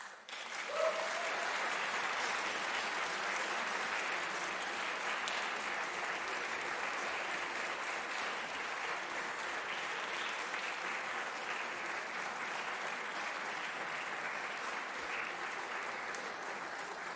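Sustained applause from a concert audience at a national vocal competition, steady and dense for the whole stretch with no voices over it.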